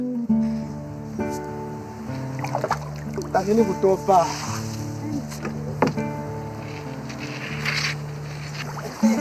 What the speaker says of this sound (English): puts the canoe through its paces